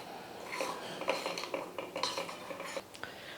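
Jaggery being stirred to dissolve in water in a metal pot, a spoon scraping and clinking against the pot in quick, close, irregular strokes, with no voice.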